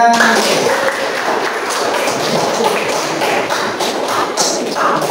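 A classroom of students claps for a group's answer, a loud, close burst of many overlapping hand claps with some shuffling and voices mixed in.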